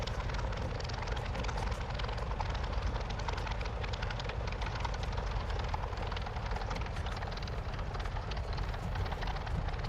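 A P-40F Warhawk taxis toward the runway in Microsoft Flight Simulator, its propeller engine giving a loud continuous chopping drone with a rapid rhythmic pulse that stays steady from start to finish.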